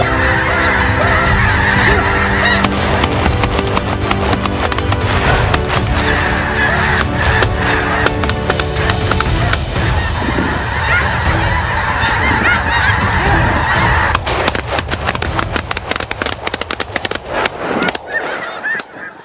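A large flock of snow geese honks loudly and continuously, overlapping calls from many birds filling the air nearby before thinning out near the end.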